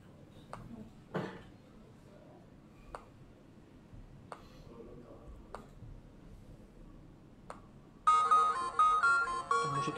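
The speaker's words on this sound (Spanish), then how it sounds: "música suena." An Amstrad CPC program plays chiptune music, entering abruptly near the end as a loud square-wave melody after a stretch of quiet with sparse sharp clicks.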